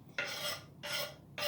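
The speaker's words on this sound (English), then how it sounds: "just move that all off the chopping board into the pan" A knife or spatula scrapes chopped food off a chopping board into a frying pan already holding olive oil, giving two or three rough scraping strokes, close and moderately quiet with no voices.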